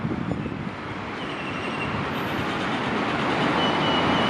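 A Southern Line passenger train rolls past close by at Bang Son halt in Bangkok, with a loud, steady rushing rumble that builds over a few seconds, wheels clattering on the rails.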